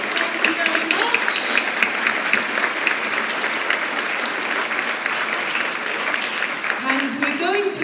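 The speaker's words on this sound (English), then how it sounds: "so maybe we could give her a thank you round of applause, Christina." Audience members at a school graduation ceremony give a warm, continuous round of applause, steady dense clapping filling the hall, with a voice briefly heard near the end.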